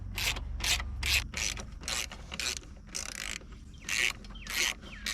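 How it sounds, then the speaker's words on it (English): Ratchet undoing the 12 mm bolts on a motorcycle's stainless slip-on exhaust muffler, about ten quick rasping clicking bursts in an uneven rhythm, close and fairly loud, with no talk. "There's 3 of these bolts holding on the muffler, and then down here where it connects, you have to undo that."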